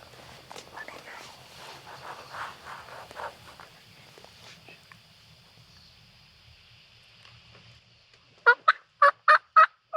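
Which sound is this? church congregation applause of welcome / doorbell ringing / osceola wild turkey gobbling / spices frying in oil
osceola wild turkey gobbling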